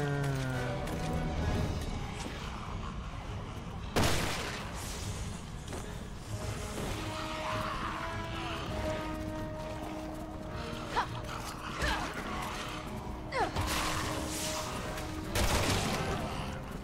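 Gunfire in the video game Resident Evil 6: repeated loud shots and bursts ring out over a busy, dense game soundtrack, with sharp impacts spaced through the scene.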